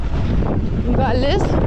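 Cold wind buffeting a microphone outdoors on a gravel-road trip between small towns, a loud steady rumble throughout, with a man's brief spoken word near the end.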